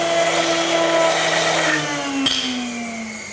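A blender whirs loudly and steadily in a home kitchen while making a cooking recipe, its motor pitch gliding slightly lower toward the end, with a brief clunk partway through and no talking.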